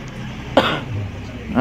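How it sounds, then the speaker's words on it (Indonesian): A single sharp cough from a person bursts out close to the mic, then the sound fades back into a quiet, steady room background. "maaf saya batuk."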